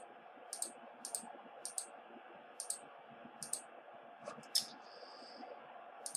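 Computer mouse clicks, about a dozen sharp isolated taps at irregular intervals over a soft steady background hiss, close to the microphone, with no talking.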